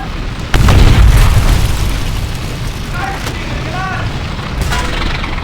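A Panzer 4 tank blows up in a tank video game, a heavy close boom that rolls into a long rumbling decay over steady game noise, with a few faint chirping tones.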